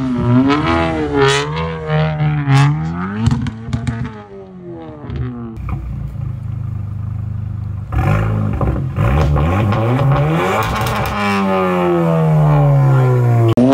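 A lowered manual Volkswagen Golf 7 with an aftermarket exhaust pulls hard, its engine note climbing through revs with a brief dip as it shifts, then rising again loud and close with no talk.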